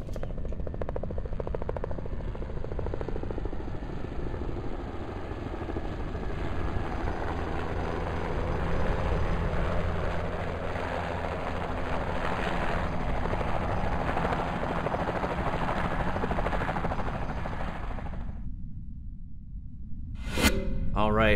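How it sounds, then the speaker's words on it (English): Helicopter coming in to land at an accident scene in First Responder Simulator, a steady rotor and engine roar that stays loud and even for about eighteen seconds and then cuts off abruptly. "Here comes the helicopter coming in."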